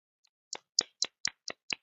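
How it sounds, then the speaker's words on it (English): Six sharp hand claps at a steady, slightly quick pace, close and clean with silence around them, after a faint single tap. "I need to give myself a round of applause."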